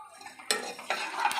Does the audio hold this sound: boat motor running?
no